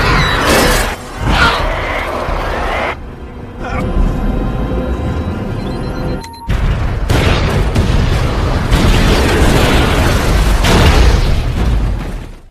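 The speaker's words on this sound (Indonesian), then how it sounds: "Setelah ledakan yang sangat hebat tersebut" Huge explosion from the film I Am Legend (2007) as infected attackers storm a house and a prepared trap goes off, loud broadband blasts and crashing debris, with a sudden near-silent gap before a heavy burst that rumbles on continuously.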